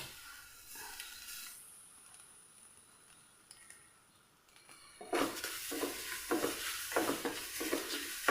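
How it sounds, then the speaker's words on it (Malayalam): Semolina and grated coconut frying in ghee start as a quiet hiss, then a louder stirring scrape and sizzle kicks in halfway, with rhythmic strokes of a spoon against the pan close by. "കൈവിടാതെ നമ്മൾ നല്ല പോലെ ഒന്ന് മിക്സ് ചെയ്തുകൊണ്ടിരിക്കുക നമ്മുടെ ഈ ഒരു നെയ്യിൽ കിടന്നിട്ട് നമ്മുടെ ഈ ഒരു റവ നല്ല പോലെ"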